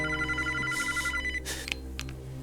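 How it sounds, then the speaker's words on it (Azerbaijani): A telephone rings indoors in repeated electronic trills, bright and regular, over a low steady background hum, with no voices. "Sən telefona cavab ver."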